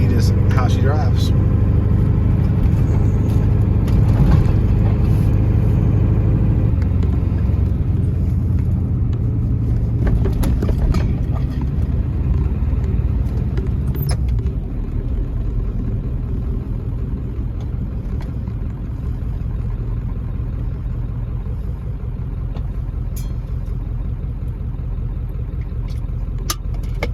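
An OBS truck running on black diesel from dual fuel tanks drives along a service route, its engine giving a loud, steady low rumble that holds throughout with only slight swells.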